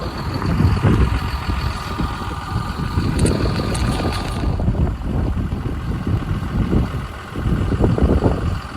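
Gusty wind blows outdoors on a farm, a steady rough rumble that buffets the microphone and rises and falls throughout, with no voices.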